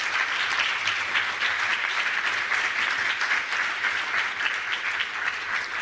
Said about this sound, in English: Can you please give them a huge round of applause for this?